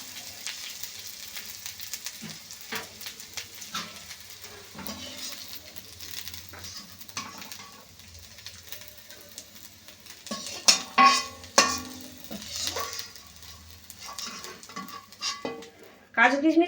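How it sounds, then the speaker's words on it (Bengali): Cashews and raisins frying in a wok for a payesh give a low sizzle under irregular spatula scrapes and clinks against the pan, growing louder and busier toward the end. "কাজু কিশমিশ ভাজা হয়ে গেছে"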